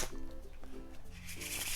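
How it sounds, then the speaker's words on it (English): A deck of playing cards is given a quick shuffle during a card trick, producing soft, close riffling bursts at a low level with a voice faintly in the background. "get them to give them a quick shuffle"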